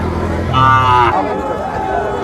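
Cattle at a cow market in Nilphamari, where calves and Sahiwal bulls are sold, let out one drawn-out moo, close and loud over a low murmur of the market crowd.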